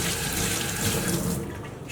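A kitchen tap runs water into a sink for about two seconds, a close, steady splashing hiss that thins out near the end, while scotch eggs are being made.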